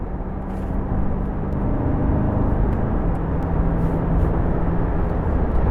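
2020 Chevrolet Corvette C8 accelerating, heard from inside: a steady, dense engine and road roar that swells slightly and holds throughout, with no talk over it.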